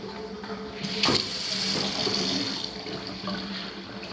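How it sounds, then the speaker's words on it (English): Water runs steadily from a tap in a building with plumbing trouble, a close rushing hiss with a brief louder splash early on and no talking. "Still trying to get some hot water out of this."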